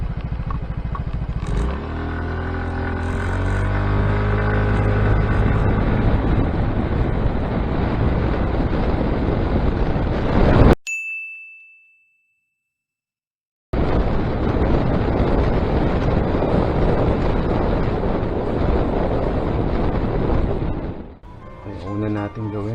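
A Yamaha Mio Gravis motor scooter engine, all stock, revs and accelerates loudly up close in a 0-to-speed acceleration test, drops out into silence for a few seconds, then roars again with wind buffeting.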